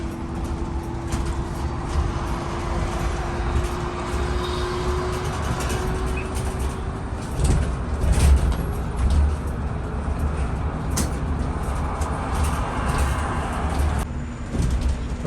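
Interior of a moving city bus in China, with a steady low engine and road rumble, rattling and occasional bumps running continuously throughout.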